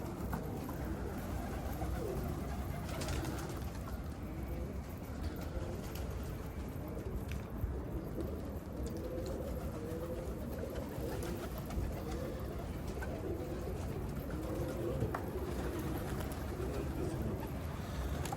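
Pigeons in a Turkish loft coo steadily throughout, a dense chorus of overlapping low calls close by, with no talking.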